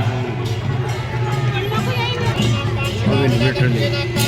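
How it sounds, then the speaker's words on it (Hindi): Dense daytime crowd hubbub at a fair near an old Brahmdev temple in India, with many overlapping voices and a steady low hum throughout, close and continuous. "दिन में भीड़ हो रखी है यार यहाँ, दिन में भी कैसी भीड़ हो रखी है।"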